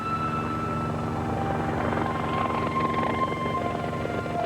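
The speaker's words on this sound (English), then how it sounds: "a lone helicopter flew over in tribute." A lone helicopter flying over at a memorial ceremony honoring rescuers, its rotor thumping steadily and loudly throughout with no talking.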